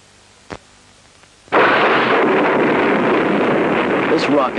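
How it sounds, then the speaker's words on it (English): A rocket launching the Pioneer 10 probe erupts into a sudden, loud, sustained roar after a quiet lead-in with one faint pop. The roar holds steady and rumbling to the end. "This rocket launched the Pioneer 10 probe into outer space."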